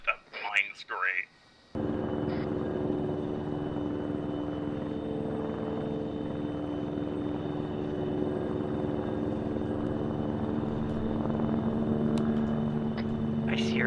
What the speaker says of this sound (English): I see your little drone.